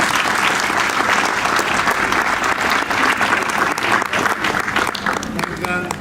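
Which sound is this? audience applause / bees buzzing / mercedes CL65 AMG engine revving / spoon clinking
audience applause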